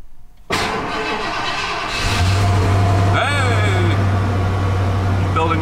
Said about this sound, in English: Let's see if this thing even starts.